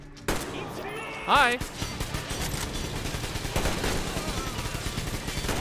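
Gunfire from a big man in a dreadnought suit in Metro Exodus, a burst of shots that opens loudly and carries on as a dense stream under the action, with someone speaking briefly over it.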